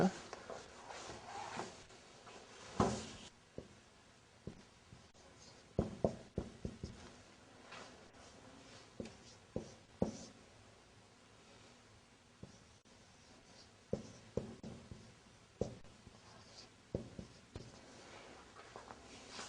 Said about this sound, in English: Now I want to write down something on the board again.